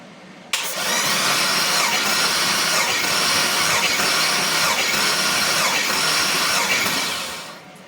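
A Cadillac Escalade's 6.0 engine cranks steadily for a compression test, a loud continuous churning starter drone that kicks in abruptly and runs for several seconds before tapering off, with no voices.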